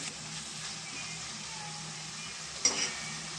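A pounded spice paste fries in a pan for spicy fish curry, giving a soft steady sizzle while being stirred, with a brief clink of a utensil near the end.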